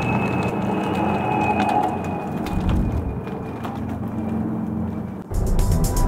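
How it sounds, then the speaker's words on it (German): A VW ID.4 electric car rolling slowly through a wooded area in Virginia, a quiet hum and tyre noise with a faint steady whine, continuous and close, with no talking. "jetzt hören wir uns mal das Geräusch des Fahrzeugs an, wenn man langsam fährt"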